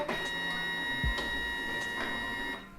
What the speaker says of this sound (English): put the smaller end of the cleaning card into the slot at the front and it will be fed through the machine